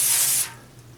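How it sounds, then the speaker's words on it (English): Cooking spray from a can misted onto a baking pan for banana bread, a short, close, loud hiss lasting under half a second before cutting off into quiet. "Just going to take my pan, a little bit of spray. I just want to give it a very quick spray."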